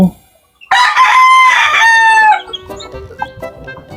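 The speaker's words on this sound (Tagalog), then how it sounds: "Ilipat natin yung mga sisiw." A hen crows or calls loudly and close for about two seconds, followed by softer clucking and faint peeping of chicks in a coop.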